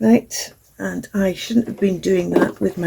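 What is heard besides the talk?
No everyday noises stand out.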